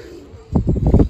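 Racing pigeons cooing close by in the morning, a quiet low murmur followed by a burst of several soft throaty coos in quick succession.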